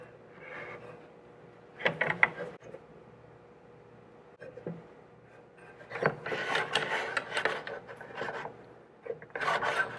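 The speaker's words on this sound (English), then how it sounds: "I'm adjusting these clamps to close this joint as I see." Woodworking clamps are adjusted on a glued-up joint, with intermittent bursts of rasping, ratcheting and rubbing against wood between quiet pauses. There is no speech.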